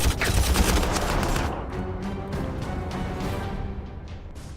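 Tactical squads fire in the Warhammer 40,000 Armageddon strategy game: a loud dense burst of rapid gunfire volleys that thins into scattered sharp shots, with no talk over it.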